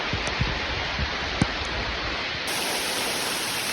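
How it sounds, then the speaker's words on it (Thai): Steady rain falls through a plantation of about two hundred 36-year-old Siamese rosewood trees, a dense hiss of close drops with a few soft taps, continuous and alone with no voices. "ฝนตกตกฝนเลย"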